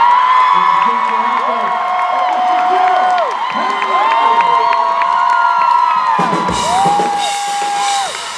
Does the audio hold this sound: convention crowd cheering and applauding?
yes